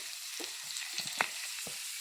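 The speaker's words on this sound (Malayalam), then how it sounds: "തേങ്ങയും നന്നായി വറുത്തെടുക്കാം." Finely ground grated coconut dry-roasting in a pan on the stove, with a faint steady sizzle and a few soft scraping stirs of a spoon, quiet and close.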